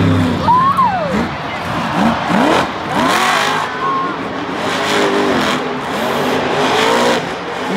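The Gravedigger monster truck's engine roars and revs in loud rising and falling sweeps during a Monster Jam run in a stadium, with a commentator talking over the crowd noise.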